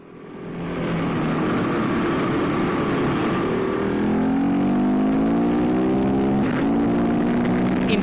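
A KTM 690 Enduro R motorcycle engine runs steadily and loudly, its pitch climbing as the revs rise partway through, with no voices.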